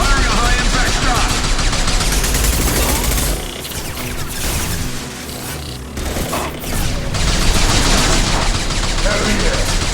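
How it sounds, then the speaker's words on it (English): Heavy weapon fire in the sci-fi shooter Mass Effect 2, a sustained loud barrage of gunshots and booms that briefly dips in the middle before surging again, with voices calling out over the combat. "Firing a high-impact shot!"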